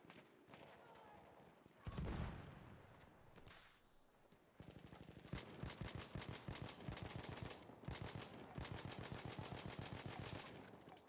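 Rapid bursts of gunfire from the video game Battlefield 1, loud and dense, with sharp repeated shots rattling in quick machine-gun rhythm through most of the stretch, after a brief heavy blast early on.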